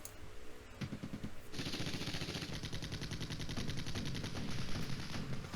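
Rapid machine-gun bursts and gunfire from the Flashpoint Campaigns Red Storm wargame during an urban defense battle, dense and continuous, loud and close with no voices.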